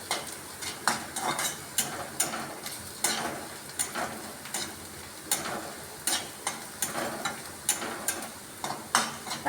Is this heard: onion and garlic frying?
yes